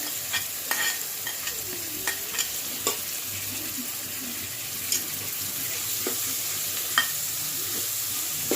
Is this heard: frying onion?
yes